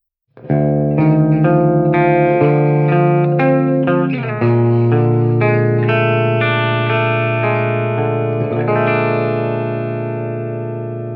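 A 1988 Burny RSG63-60 electric guitar plays through a distortion pedal into a Softube JMP 2203 amp plugin, with loud, saturated sustained chords and notes that ring out and slowly fade.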